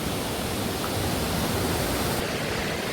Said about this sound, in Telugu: అసలైనటువంటి వాటర్ ఫాల్